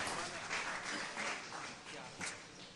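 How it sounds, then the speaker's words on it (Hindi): A crowd at a boys' high school event claps steadily and fairly loudly throughout, with voices mixed into the applause. "ज़ोरदार तालियों से इस्तकबाल करे"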